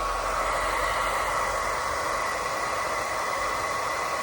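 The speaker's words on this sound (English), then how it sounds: "Take your blow dryer and go in a low heat setting." A hair blow dryer on a low heat setting, used while installing a glueless frontal wig, blows a steady, even airy hiss close by for a few seconds with no talking.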